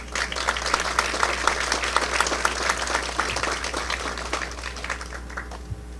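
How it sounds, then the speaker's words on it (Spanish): An audience at an intercultural forum applauds warmly to welcome guests, a dense, steady burst of clapping that slowly thins toward the end. "quiero recibir con un fuerte aplauso a las personalidades que nos acompañan esta mañana"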